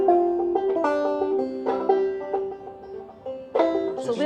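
Banjo picked in two-finger mountain style, bright plucked notes ringing in short phrases with a few sharper accented strikes, played solo and close with no voices.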